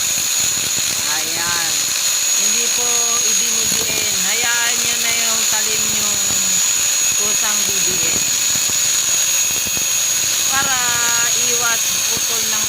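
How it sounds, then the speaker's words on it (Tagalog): An angle grinder cutting off a rusted center stand on a Yamaha Mio scooter gives a constant high-pitched whine throughout, while someone talks over it for most of the time. "ganyan ang paggamit ng grinder ng aking Boss RV."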